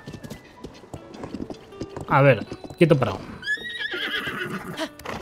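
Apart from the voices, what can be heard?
giant horse neighing and hooves in Zelda Tears of the Kingdom video game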